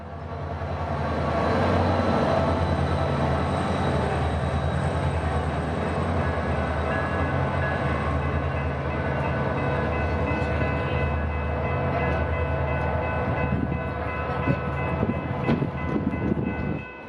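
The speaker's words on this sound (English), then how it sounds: "Eventually, after some minor delays, Amtrak 98 would arrive, with its P42DC number 37 in the lead." Amtrak train 98, led by a P42DC diesel locomotive, rolls into a central Florida station, its engine rumbling steadily and wheels clattering over the rails, with horn tones ringing through as it draws near.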